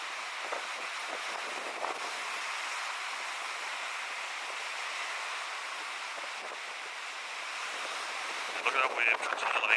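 Ocean waves break into a cove at Waterfall Cove in wintry Scotland, a constant wash of surf under steady wind noise, with a brief louder rustle of wind near the end.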